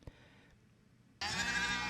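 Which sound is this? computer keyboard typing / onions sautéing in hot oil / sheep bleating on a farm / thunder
sheep bleating on a farm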